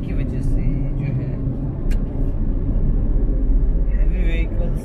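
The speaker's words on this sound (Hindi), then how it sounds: "हैवी व्हीकल्स का जो ट्रैफिक है वो ज़्यादा लग रहा है" Heavy vehicle traffic rumbling past on a highway near Mumbai on a Saturday morning, a continuous low droning roar with passing engines swelling in and out, heard from inside a moving car.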